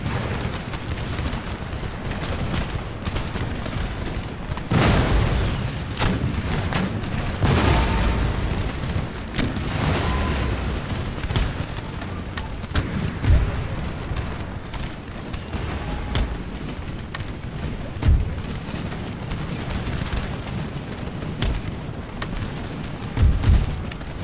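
Cannon fire in an Empire: Total War battle: booming artillery discharges, including canister shot, break out repeatedly over a dense, continuous roar of battlefield noise, with several sharp, loud blasts standing out among the rumble.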